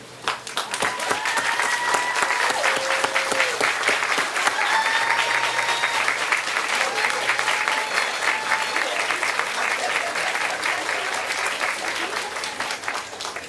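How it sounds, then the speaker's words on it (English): Graduates at a 2017 diploma ceremony stand and applaud their families and friends, a loud, steady wash of dense clapping from a large hall crowd lasting throughout, with brief voices and cheers mixed in. "Please stand and face them and offer them a round of applause."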